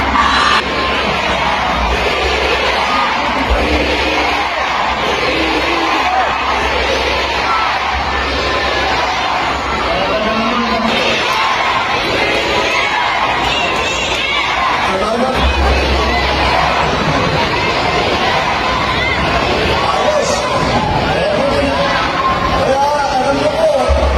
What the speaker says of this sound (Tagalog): 4 times po sumigaw ang mga tao ng BBM